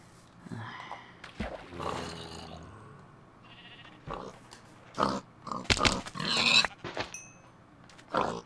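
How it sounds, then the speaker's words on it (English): Pigs in the Minecraft video game grunt and oink in a scattered series of short snorts, some quiet and some louder, with no talking. "Some pigs."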